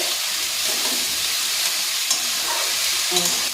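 Chopped bottle gourd hits a hot pan with shrimp and green chillies, setting off a steady, close sizzle and hiss with light stirring scrapes throughout, no voices.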